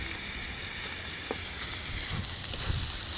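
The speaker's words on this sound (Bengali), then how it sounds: "সব মশলা একটু ভালো করে কষিয়ে নেব।" Spices with chopped green chili, tomato and cumin paste frying in a pan for chicken khichuri, a steady close hiss of sizzling oil with a few faint stirring taps.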